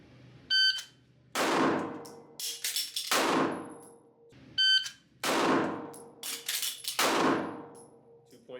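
Canik TTI Combat pistol fired in a draw and reload drill at a range, two sequences of sharp shots with ringing steel target clangs, each string separated by a pause, loud and close.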